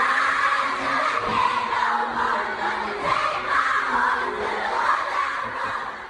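A large crowd of elementary school children screams and cheers nonstop at a concert at Landers Elementary School in Mayfield, Ohio, a loud, dense roar of high voices that stays steady throughout.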